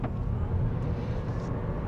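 A low-cost electric car pulls away from a standstill under hard throttle, its 175-horsepower drivetrain giving a steady low rumble and road noise that holds level for two seconds, heard from inside the cabin with no talking.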